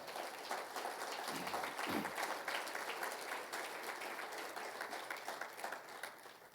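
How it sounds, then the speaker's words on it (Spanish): A church congregation applauds steadily and loudly throughout, dense clapping with no pauses, fading only slightly near the end. "Denle el aplauso fuerte y lo va a dar al Señor"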